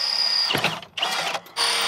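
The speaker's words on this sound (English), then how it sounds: "so that way I can just drill all the holes at once." A power drill whines at high speed close up, drilling holes for a motor mount on a 1957 Chevy Bel Air, stops briefly twice, then spins up again in short bursts.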